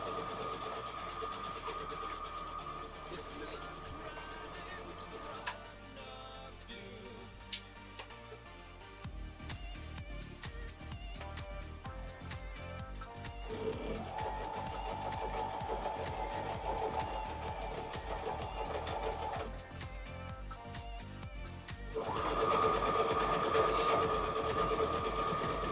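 A sewing machine runs in long steady passes, humming and whirring as quilt rows are stitched together, moderately close with a constant motor tone and brief gaps between seams.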